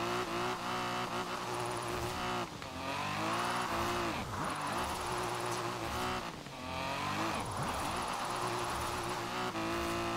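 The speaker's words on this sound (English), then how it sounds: "Just drift back and forth here. I'm just holding the gas down" A car drifts back and forth with the throttle held down in Forza Horizon 4's drift club, its engine droning and revving loudly while tires squeal through long slides.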